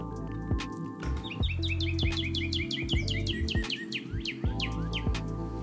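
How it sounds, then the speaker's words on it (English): Rapid bird-like chirps and tweets in bright repeated bursts over sustained tonal hums and low droning notes, all loud and close with no voices. "Chirping."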